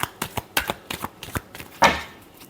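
Tarot cards being shuffled by hand, a quick series of soft, close riffling flicks and taps, ending with one louder, longer rustling sweep of the deck.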